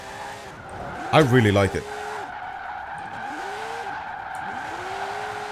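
A car drifts in the racing game Forza Horizon 4, giving a short, sharp tire squeal over a steady engine drone. Someone talks briefly over the squeal, and the engine tone then rises and falls in gentle sweeps.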